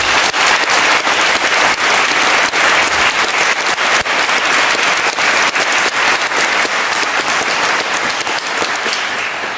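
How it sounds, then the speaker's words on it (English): An audience in a hall claps loudly and continuously for several seconds, a dense, even wash of applause with no voices over it. "I think they deserve another clap"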